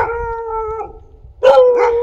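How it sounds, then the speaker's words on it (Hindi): Village dog in a forested Uttarakhand hillside settlement giving a drawn-out, howling vocalization, then a louder second burst of yelping howls after a brief pause, fairly close with faint background noise. "ये देखो, डॉगी भी भौंकने लग गया"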